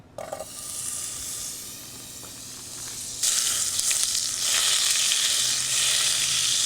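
A quarter cup of butter hits a hot pan for a roux, giving a steady, airy sizzle that jumps suddenly louder partway through and stays strong to the end.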